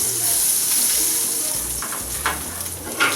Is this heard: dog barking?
no